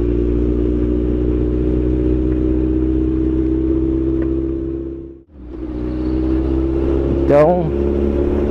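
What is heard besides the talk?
Suzuki Bandit 1250 motorcycle engine revving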